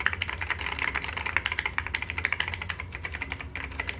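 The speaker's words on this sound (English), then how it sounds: "very light typing feel" Typing on a Rosewill RK-6000 keyboard fitted with Alps switches, a close, steady run of rapid light key clicks and clacks continuing without pause and with no voices.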